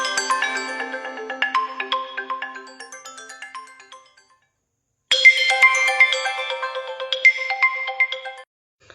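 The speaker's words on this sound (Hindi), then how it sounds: "उर्मी जी फोन लगा रहे हैं" A melodic phone ringtone plays two bursts of tinkling notes separated by a short silence, clear and fairly loud.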